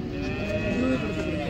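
A cow at a busy cattle market gives a low, sustained moo up close, with crowd murmur and market noise underneath.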